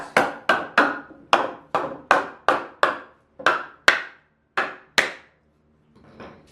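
A hammer strikes a 14-inch wood block in a run of about a dozen sharp, evenly spaced knocks, each ringing briefly, before a pause and a softer final tap.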